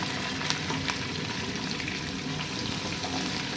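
Large onions sizzle and crackle steadily in a hot pan, a continuous close frying hiss with small pops and no voices.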